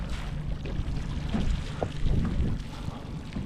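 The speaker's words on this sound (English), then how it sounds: "The wind has picked up." Wind blowing across a reservoir on a summer fishing outing, a steady low rumbling buffet against the microphone with water lapping faintly underneath, continuous and fairly loud.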